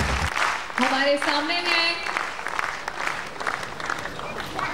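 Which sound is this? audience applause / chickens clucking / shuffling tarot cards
audience applause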